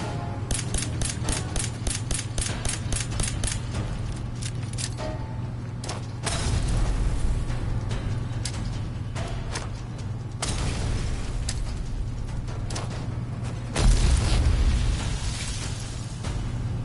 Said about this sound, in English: I do love big explosions